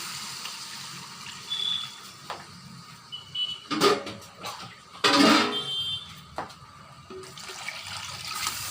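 Water for a tilapia curry broth with green mango pours into a hot pan in a few splashing bursts over a low sizzling background, close and fairly loud.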